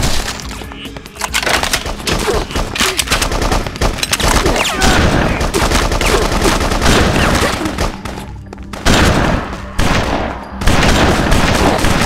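Dense, loud gunfire from the BloodRayne video game fills the clip with continuous machine-gun bursts and cracking impacts, sustained nearly throughout with a few brief dips, and no speech.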